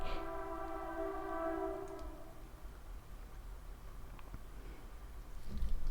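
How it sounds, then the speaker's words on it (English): A train horn sounds loudly for about two seconds, followed by a steady low rumble of the train rolling past at a moderate distance, with no talking. "So a train just went past."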